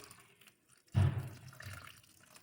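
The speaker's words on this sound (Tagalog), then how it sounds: "So, lagyan natin ng tubig." Water splashes and pours into a pan for steaming a cake after a brief quiet moment, a close, gurgling rush that keeps trickling softly afterward.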